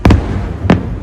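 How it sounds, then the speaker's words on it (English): Fireworks going off at night, heard as two sharp outdoor bursts about half a second apart, a quick double pop followed by a single louder bang, with no voices during the blasts. "The night that you proposed, there are fireworks."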